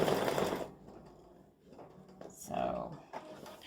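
An embroidery machine stitches textured leaves into card stock for a watering-can-and-tulips greeting card, giving a busy mechanical chatter at moderate level alongside a person talking.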